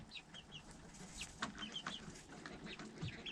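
Chickens and chicks in a coop give faint scattered clucks and high peeping, with soft rustling underneath, quiet and somewhat distant.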